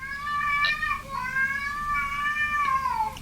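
A cat meows in a long, drawn-out cry close by, its voice wavering and rising in tone for over three seconds with brief breaks, loud and clear over a quiet indoor background.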